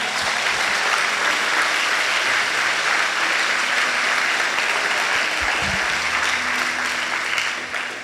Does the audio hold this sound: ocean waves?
no